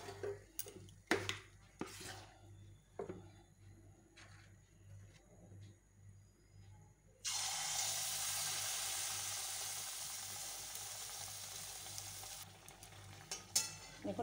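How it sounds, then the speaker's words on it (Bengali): Palm malpua drop into hot oil and fry with a sudden loud, steady sizzle that carries on for several seconds, preceded by a few soft clinks and taps of utensils. "আমি এবার এমন করে সবগুলো ভেজে নেব"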